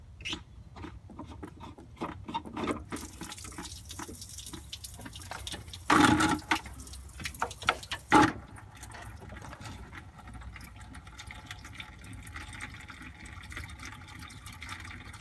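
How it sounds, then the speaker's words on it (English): Coolant water drains from a Ford Fiesta XR2i engine as a soft, continuous trickle with faint splashes. Two brief louder gushes come midway, all quiet and close. "Hopefully, if I undo this, it releases the vacuum and the water comes out."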